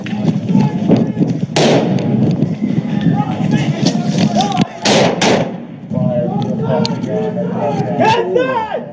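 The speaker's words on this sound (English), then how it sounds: "Shots fired." Gunfire rings out during a police standoff with a man pointing a rifle at officers, several sharp, loud cracks and thuds cutting through shouting voices and radio chatter.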